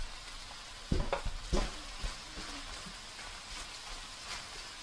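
Ground beef and Brussels sprouts sizzle in a frying pan, a steady hiss with a few sharp clatters and scrapes of stirring near the start.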